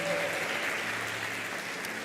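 Applause from a church congregation for the children's church, a steady clapping wash that runs the full two seconds at moderate level with faint voices beneath.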